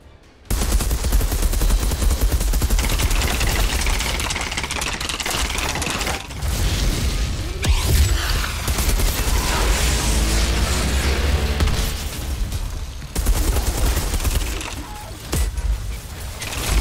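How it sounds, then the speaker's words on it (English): Heavy enemy's Gatling gun in Outriders roaring in long sustained bursts amid loud clanking mechanical game noise and dense action, continuous and close throughout with brief dips. "Check this guy with his fucking Gatling gun."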